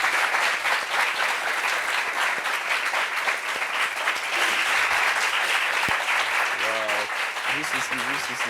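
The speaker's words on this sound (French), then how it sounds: "Applaudissements pour elle." Sustained applause from a studio audience welcoming a guest onto a French-language talk show set, steady and dense throughout, with a few voices briefly rising over it near the end.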